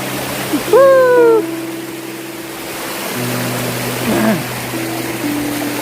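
Water rushes steadily at Raikal waterfall on a trek near Warangal, a constant even roar, briefly topped by a sharp rising whistle or call and a few faint tonal hums.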